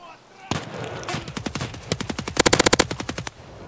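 Gunfire in an Escape from Tarkov fight against a scav: a sharp opening shot, scattered single cracks, then a rapid automatic burst, loud and close.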